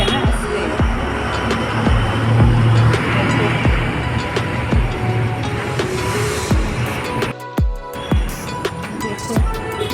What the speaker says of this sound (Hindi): यहाँ बहुत ज़्यादा गाड़ी का शोर होता है, पूरा रोड है ना, इसलिए।